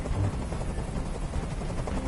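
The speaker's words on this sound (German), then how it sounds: "Ich halte diesen Krach nicht mehr aus. Dieser Helikopter soll verschwinden." Helicopter in the video game Detroit: Become Human, a steady whirring rotor drone at moderate level, continuous and unbroken throughout with no talking.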